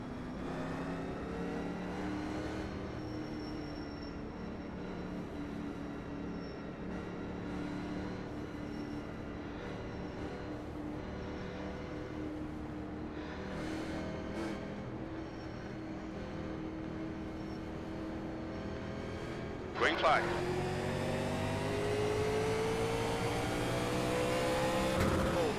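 Race cars lap Talladega Speedway in the NASCAR Legends video game, a steady droning engine roar with shifting pitch that jumps sharply louder and higher near the end as the engine revs.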